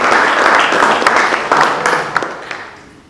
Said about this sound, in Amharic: በጣም ቆንጆ፣ አጨብጭቡለት